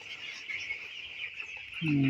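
A flock of 1,320 fourteen-day-old broiler chicks in a farm shed keeps up a steady, dense chorus of high peeping, fairly faint and continuous, with a brief lower sound at the end.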